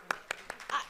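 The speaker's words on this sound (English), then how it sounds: "please give us a round of applause" Brief scattered clapping from an audience at an inaugural conference session, a few separate claps in quick succession rather than full sustained applause, over faint room background.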